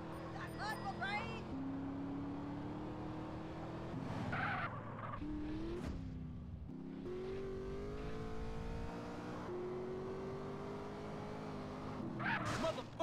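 Car driving in the video game GTA San Andreas, a steady engine drone with brief tire skids, heard alongside game dialogue from characters talking over it.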